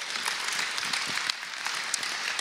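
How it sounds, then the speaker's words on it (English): Audience clapping for an interview guest, a continuous wash of applause from a modest crowd, fairly soft and steady with no talk over it. "Give him a round of applause again."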